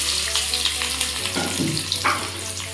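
Chopped shallots and garlic hit hot oil with fenugreek seeds, giving a steady close sizzle with a low hum underneath and a few brief scraping stirs partway through, no speech.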